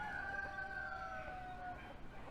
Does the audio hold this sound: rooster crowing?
yes